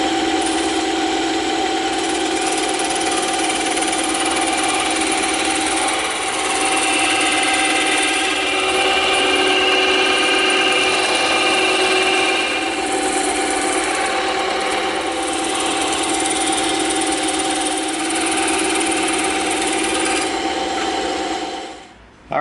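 A bandsaw cutting through EVA foam to bevel a shield edge, a steady loud whirring drone with a constant grinding hiss that runs unbroken for over twenty seconds before cutting off abruptly at the end.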